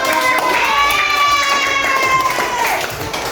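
A group of children claps and cheers together in a classroom, with bright, overlapping young voices and steady applause that stays loud for a few seconds before easing slightly.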